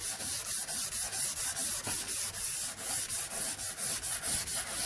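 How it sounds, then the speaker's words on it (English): Brush scrubbing a stove hob, a steady back-and-forth rasping in quick regular strokes, close and continuous with no talking. "I have to scrub with the brush"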